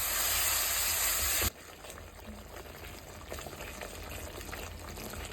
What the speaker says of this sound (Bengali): এই যে সব মশলাগুলো আমি ভালো করে কষিয়ে নিচ্ছি